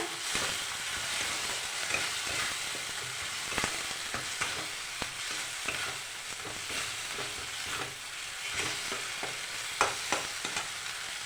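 Spice paste with turmeric powder sizzles in a pan while being stirred, a steady close frying hiss broken by repeated scraping and tapping strokes of the spoon, no voices.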